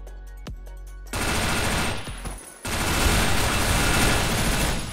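Rapid automatic gunfire in a video game clan war match, loud sustained bursts and volleys that fill most of the stretch after a brief quieter opening with a few single shots.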